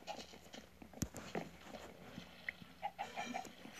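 A chicken in a video game gives a few faint, short clucks against low background hum, with scattered small clicks and game noises around them.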